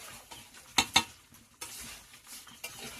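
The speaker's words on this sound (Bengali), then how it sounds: "চাল ভাজে নাও তুমি" Rice stirred and fried in a wok-style pan for a family wedding meal, with a few sharp scrapes of a spoon against metal over a soft sizzle, near and without talk.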